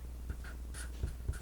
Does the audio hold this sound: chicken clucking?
no